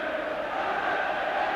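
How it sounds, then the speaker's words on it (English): A football stadium crowd at a European Cup Winners' Cup match against Legia Warsaw roars and cheers as one steady, loud wash of voices, filling a short burst with no break. "Well, the crowd are cheering now."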